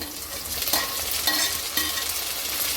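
Tomatoes sauté and sizzle in a pan of masala for a country kezhuthi fish curry, a steady close frying hiss broken by a few soft stirring scrapes.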